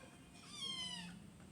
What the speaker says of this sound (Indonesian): Ya ampun, ini kucing.